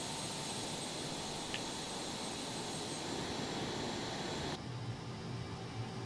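A MiG-29 Fulcrum's jet engines in Microsoft Flight Simulator, a steady broadband roar with a high whine that drops abruptly to a lower hum near the end, continuous with no talk.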